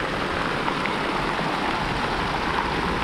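A running fountain jet in Spain gushes in a steady, close, fairly loud hiss of falling and spraying water, unbroken throughout and with no voices.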